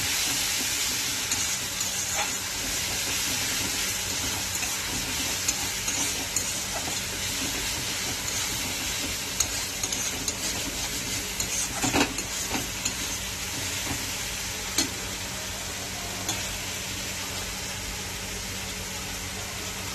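Spice masala for chana masala frying in oil, a steady hissing sizzle throughout with occasional faint stirring clicks, close and even.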